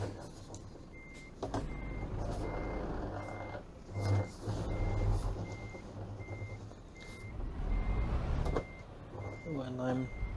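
In Euro Truck Simulator 2, a truck reverses with a double trailer, its evenly spaced reversing beeps sounding steadily over engine rumble and an air-brake hiss near the end, while a person talks throughout.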